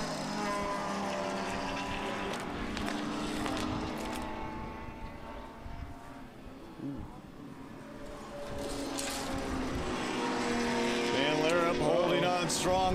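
Grand Prix race cars, including a Pontiac in lapped traffic, at the 2014 O'Reilly Auto Parts Grand Prix drone and whine on track, a sustained engine roar that dips in the middle and swells again, with a commentator talking over it.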